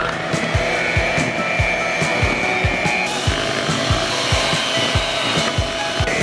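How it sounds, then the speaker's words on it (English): Electric hand mixer whirring steadily through banana bread batter with chocolate chips, a loud close motor drone with rhythmic scraping knocks against the bowl. "And now we're going to mix."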